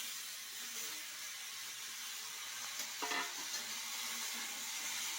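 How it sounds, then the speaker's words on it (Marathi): Cut eggplant goes into a pan and is stir-fried, giving a steady, hissing sizzle with a brief scrape and clatter midway, and no voices. "आता हे आपण वांगी जी कट केलं का ते टाकून घ्यायचे"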